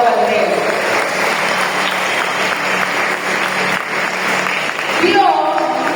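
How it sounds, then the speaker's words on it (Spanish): A church congregation claps in sustained, dense applause for several seconds, steady and fairly loud, with a slight swell near the end. "Bríndele un fuerte aplauso al Rey"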